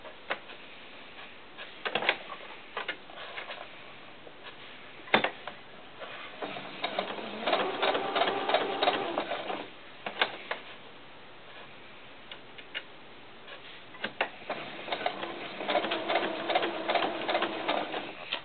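A sewing machine stitches a fabric rose and tulle together for doll barrettes, its quick mechanical ticking coming in close bursts of a few seconds with short pauses between runs.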